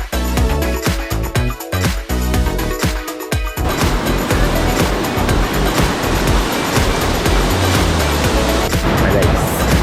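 Cachoeira dos Pretos waterfall, visited on a Tour do Peixe, pours in a loud, steady broadband rush. Distant voices can be heard at the start, before the water noise fills the rest.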